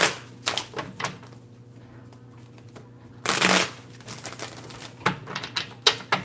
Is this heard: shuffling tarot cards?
yes